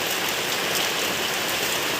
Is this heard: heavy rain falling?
yes